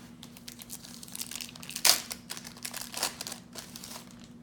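Packs of 1991 Score hockey cards being torn open, with crinkly wrapper crumpling and tearing in repeated close bursts, one sharp rip standing out, over a faint steady hum and no talking.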